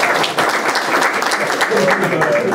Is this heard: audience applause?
yes